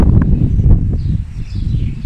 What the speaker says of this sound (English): It's just only the wind.